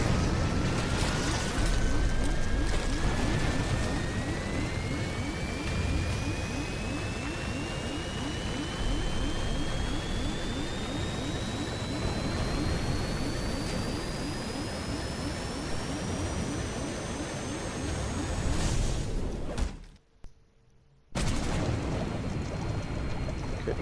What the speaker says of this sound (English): Okay, the plane has crashed.